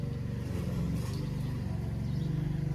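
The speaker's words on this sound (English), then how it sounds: "Excuse the noise, it's neighbour cutting lawn." A neighbour's lawn mower cuts grass close by in a garden, its engine a steady, throbbing drone that holds a constant pitch throughout.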